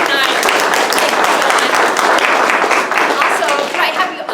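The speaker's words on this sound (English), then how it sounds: "Could I ask everyone to please give a round of applause" Audience applause at an evening community gathering in a meeting facility, a steady dense wash of clapping hands that holds at full level throughout, with a hint of voices mixed in.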